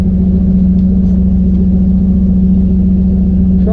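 Pickup truck idling in four-wheel drive low gear, a loud, steady engine drone with a strong low hum and constant rumble throughout, no voices.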